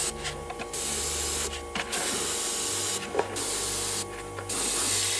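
An airbrush sprays paint in bursts of close, bright hissing, with four spray passes separated by short pauses and a low mechanical hum running beneath.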